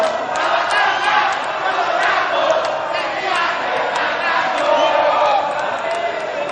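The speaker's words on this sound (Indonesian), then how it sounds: "Dan silakan kedua pendukung dari masing-masing paslon, silakan memberikan tepuk tangan." Supporters of two candidate pairs in a regency election debate in Luwu clap and cheer together, a loud, continuous crowd roar with scattered sharp claps running unbroken throughout.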